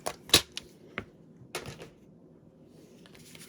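A paper trimmer slices through card stock in a few sharp, quick strokes, with scattered clicks and faint rustles between them, close and alone without talk.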